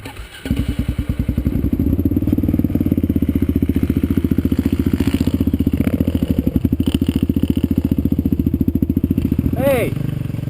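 A Kawasaki KLR650 single-cylinder motorcycle rolls over a pile of glass and garbage, its engine a steady, loud, rapid thumping throughout, with faint clatter and a brief high whine near the end.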